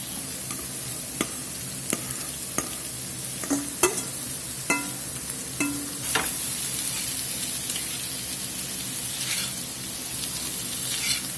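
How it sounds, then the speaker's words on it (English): Corn and vegetables sauté in a skillet over medium to medium-low heat, a steady close sizzle broken by repeated sharp scrapes and clacks of a stirring utensil against the pan. "We just saute these vegetables long enough for them to start sweating a bit."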